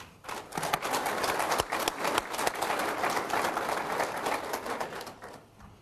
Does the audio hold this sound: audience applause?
yes